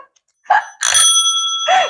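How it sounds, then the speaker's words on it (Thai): A small bell rings loud and close: a short strike, then a bright, sustained ring that hangs for about a second before another strike, with no voices. "กระดิ่งด้วย"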